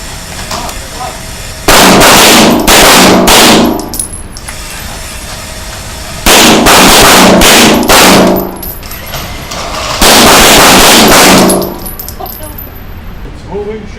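Handgun shots fired at a moving target during a Tueller drill come in three loud bursts of rapid close shots, each followed by clanging steel, with quiet gaps between them.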